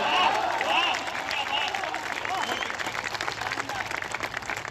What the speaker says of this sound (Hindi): आप देखिए बहुत अच्छी तालियां बजा रहे हैं